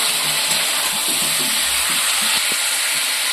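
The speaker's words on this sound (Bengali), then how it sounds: "আবারও ভালো করে কষিয়ে নেব" Spices with cumin and coriander powder are sautéed for a masoor dal fritter curry, giving a dense, continuous loud sizzle with faint stirring knocks underneath.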